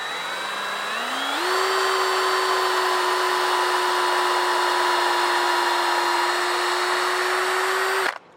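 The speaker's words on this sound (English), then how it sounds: "this drill bit is just going to go through." A power drill whines as it spins up boring into a maple bonsai trunk, then holds a steady high-pitched drone for several seconds before stopping abruptly.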